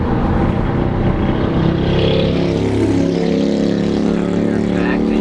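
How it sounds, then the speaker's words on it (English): A loud motorcycle passes close by a car on the road, its engine roar swelling and then falling away under constant in-car road noise. "Pretty loud motorcycle just went by."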